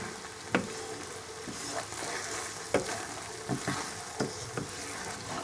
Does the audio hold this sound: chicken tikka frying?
yes